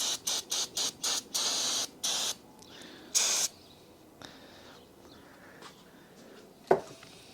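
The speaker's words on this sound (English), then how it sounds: "Clean out the head a little bit with brake cleaner." Brake cleaner sprayed from an aerosol can into a cylinder head from a Yamaha PW50 60cc big bore kit, several short hissing bursts in quick succession, then a longer spray and quieter handling noises.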